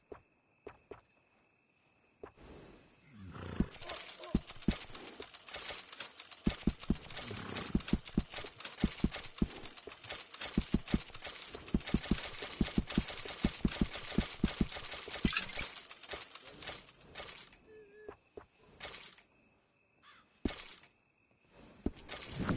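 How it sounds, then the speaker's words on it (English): Horse hooves clip-clop steadily on the ground in the Red Dead Redemption 2 western video game, a close, continuous walking rhythm with faint ambience and a short tone near the end. "And a fine new horse."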